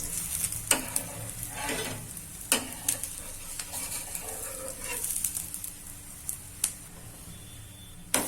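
A spicy gram flour pudla fries in oil on a pan with a continuous soft sizzle, while sharp scraping and tapping clicks from a spatula recur throughout.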